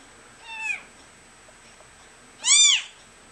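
A tiny kitten gives two clear, high meows, the second louder and longer, in a quiet room.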